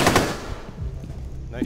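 Gunfire in Rainbow Six Siege on the Consulate map during a hostage team deathmatch: a loud close burst of shots at the start, then decaying echo and scattered quieter sounds, with a brief voice near the end.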